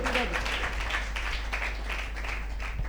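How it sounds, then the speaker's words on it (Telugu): Congregation clapping hands together in a church gathering, a dense, steady wash of many palms kept up throughout, with a preacher's voice faintly underneath. "కొట్టు చప్పట్లు గట్టిగా, ఇంకా గట్టిగా"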